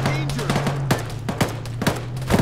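Gunshots from an enemy soldier in Arma 3 crack out as a handful of sharp, evenly spaced single reports over a steady low hum and faint background voices.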